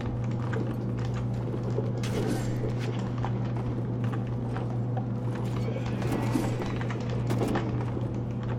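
Horses in the video game Mount and Blade, a steady rapid clip-clop of hooves under a constant low hum, continuous and even.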